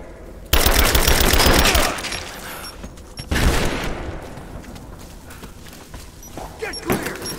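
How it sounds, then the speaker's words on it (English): Grenade blast and bursts of gunfire in the video game Rise of the Tomb Raider: a loud broadband explosion opens, rapid automatic fire rattles, then a second heavy boom decays into scattered shots and debris. "Throwing a grenade!"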